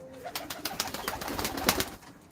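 Domestic pigeons coo in a soft, close series of throaty, rolling calls, repeated for a couple of seconds over faint background noise.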